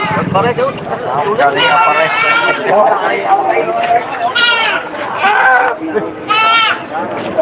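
Goats bleat repeatedly, some close and loud, at a goat livestock market amid busy crowd chatter and people talking.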